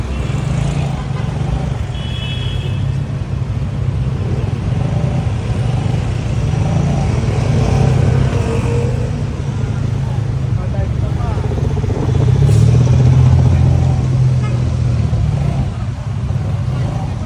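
Steady roadside traffic in front of SM South Mall, with motorcycle tricycles and cars passing continuously. A loud, dense engine rumble holds throughout and swells slightly near the end.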